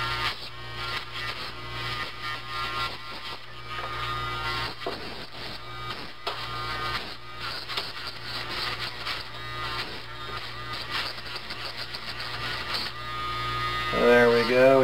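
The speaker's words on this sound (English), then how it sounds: "I'm going to take my Dremel tool, I'm going to smooth off the burr where I drilled the hole." A Dremel rotary tool deburring a freshly drilled hole on a slot car chassis gives a steady high-pitched whine with constant hum, running nearly the whole time and shifting pitch briefly at the end.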